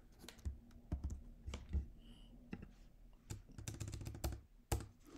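Computer keyboard typing up close, in irregular bursts of sharp keystrokes separated by short pauses, with no talking.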